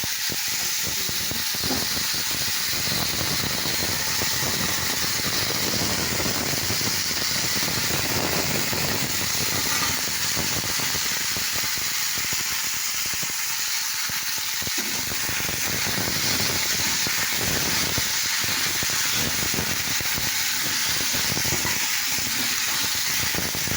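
Panch phoron spices sizzling and crackling steadily in hot oil, a continuous close hiss with bursts of spitting throughout.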